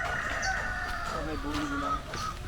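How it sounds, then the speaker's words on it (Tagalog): Mixed-breed chickens on a brown-egg farm in Quezon, Isabela, clucking and crowing in a loud, overlapping chorus, with a rooster's drawn-out calls rising above the flock. "dami niyang halo-halo pala yung manok niya"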